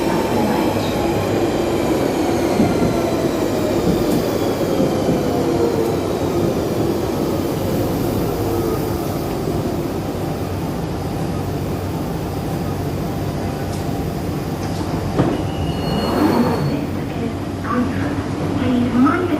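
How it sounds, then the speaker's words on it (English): A London Underground Central Line train rumbles in and pulls into the platform, wheels screeching and squealing, with a loud steady roar throughout. "Central Line, platform 1, train approaching Station platform."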